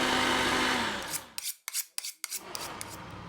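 Blender whirring loudly as it purees butternut squash with butter for a plant-based cappuccino, a steady buzzing grind that cuts off midway, followed by a few short clattering bursts as it stops.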